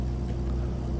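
Volvo truck accelerating in Euro Truck Simulator 2, a steady, loud low engine drone that holds constant throughout with no talk over it.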